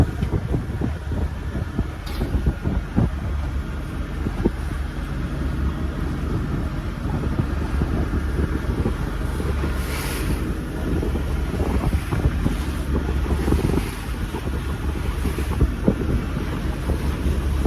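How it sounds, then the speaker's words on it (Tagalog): Strong, constant wind on the Boracay coast buffets the microphone with a heavy low roar, gusting throughout, with water and boat noise mixed in. "Pag malakas yung hangin, parang nakakatakot eh."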